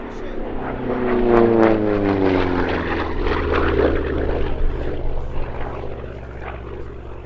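A P-47D Thunderbolt propeller aircraft roars overhead at an airshow, its engine drone rising and then fading as it passes, with the pitch sliding down.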